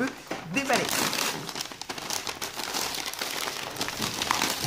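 Paper wrapping on a small advent calendar package crinkles and tears in quick bursts, close and fairly quiet, with a voice talking over it.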